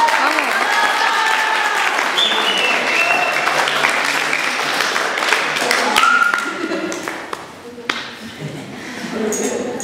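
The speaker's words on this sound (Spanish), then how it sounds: "no pueden aplaudir de pie" An audience at a ceremony honouring mothers of entrepreneurs breaks into sustained loud applause that gradually thins and fades toward the end, with scattered claps lingering.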